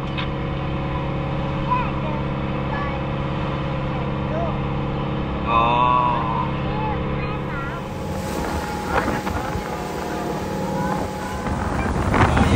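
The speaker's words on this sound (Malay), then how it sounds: "Bot. Tapi macam kereta je tengok." A motorboat engine drones steadily at sea off the Maldives, with wind buffeting the microphone and water splashing; a voice briefly exclaims partway through.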